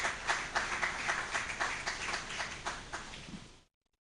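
Applause rises from an audience at a panel session of The Roundtable Lekki 2025, a thin scattering of claps that are fairly faint and steady for a few seconds before cutting off abruptly.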